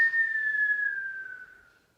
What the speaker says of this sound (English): then we're gonna make a whistle